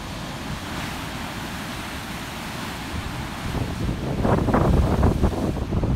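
Ocean waves wash in over porous volcanic rock on the coast at Piha, a steady rushing surf mixed with wind buffeting. Louder splashing surges build toward the end, with no voices.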